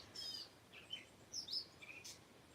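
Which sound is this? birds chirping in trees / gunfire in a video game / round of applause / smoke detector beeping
birds chirping in trees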